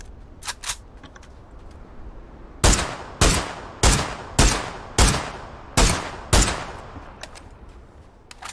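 Rapid sequence of SLR rifle shots in the PUBG battle royale game, about seven loud, sharp cracks spaced roughly half a second apart, each with a short decaying tail, preceded by a couple of fainter distant shots.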